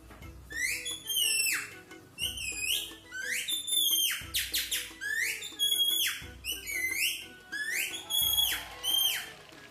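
A person whistles an imitation of a parrot's call in a Marathi TV show: bright, rising and falling squawk-like notes in repeated bursts, loud and close, with no talk over it.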